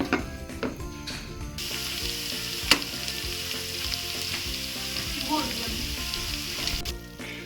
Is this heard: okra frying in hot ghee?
yes